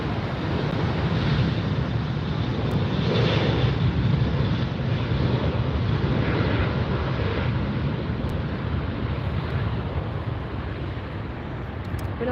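Southwest Airlines jet departing LAX, a broad steady roar of engine noise heard from a distance with wind buffeting, fairly constant throughout with no talk.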